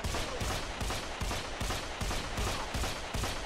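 Rapid pistol shots fired repeatedly in the Deadfall Adventures video game, about eight evenly spaced sharp bangs in quick succession, loud and close with no talking.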